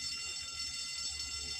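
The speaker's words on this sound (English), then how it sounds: "yeah, that's the fire alarm." Fire alarm ringing continuously in a hospital, a steady high electronic tone held at even loudness throughout with a faint low rumble underneath.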